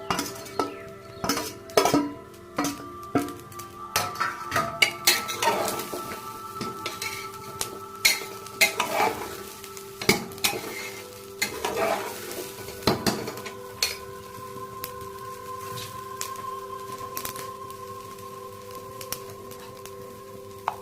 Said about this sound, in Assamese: এতিয়া চাউলখিনি ফ্ৰাই কৰা হৈছে বুলিয়ে ক'ব পাৰি।